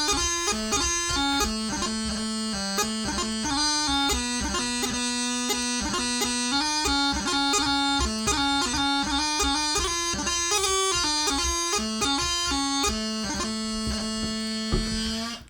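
Bagpipe practice chanter played solo and out of tune, with its sour low A, in a continuous reedy, nasal melody of steady stepping notes over about fifteen seconds, loud and close, with no talking.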